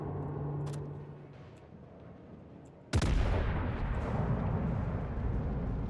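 Naval guns boom in the video game World of Warships, a sudden loud blast breaking a quiet, low rumbling stretch and followed by a sustained roaring wash of fire and hits.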